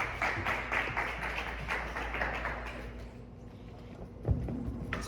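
Scattered audience applause in a bar during a live music night, moderately close and fairly dense at first, thinning out toward the end with a few louder individual claps.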